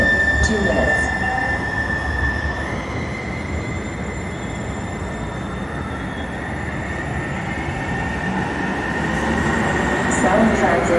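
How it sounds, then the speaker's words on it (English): A Siemens S700 Link light rail train at SeaTac Airport station rumbles steadily in, its wheels squealing faintly, with a constant loud mechanical roar throughout. "The next train, southbound, is arriving in 2 minutes."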